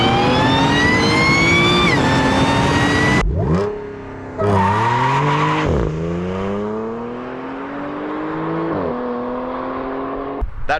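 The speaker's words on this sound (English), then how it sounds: "Now that this intake is opened up a lot more, you can hear that supercharger whine." Supercharged car launching down a quarter-mile run with an opened-up air intake, loud rising engine and supercharger whine climbing through several gear shifts, close and alone.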